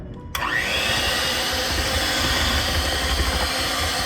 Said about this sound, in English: Use the blender for the mixing, only at low speed.